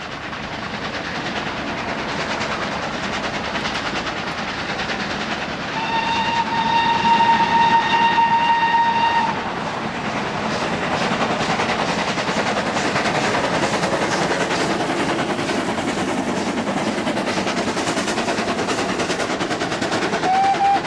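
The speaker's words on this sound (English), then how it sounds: "Engines make the most steam and smoke going uphill" A steam locomotive climbing a steep bank rumbles steadily throughout with a loud, continuous chugging roar, and a sustained whistle-like tone sounds for a few seconds partway through.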